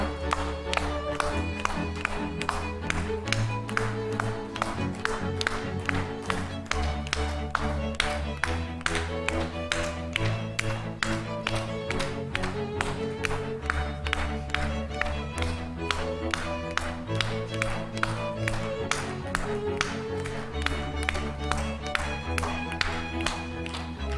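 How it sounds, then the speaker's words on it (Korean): A group claps in steady rhythm with hands held behind the neck as a health exercise for stroke and dementia prevention, sharp regular claps over continuous music with a pulsing beat. "목 뒤에서 손을 모아 박수 쳐주세요."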